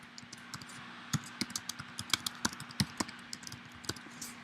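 Keys clatter on a computer keyboard as a question is typed into a real estate website form, a quick irregular run of close, crisp clicks over a faint steady hum, with no voices.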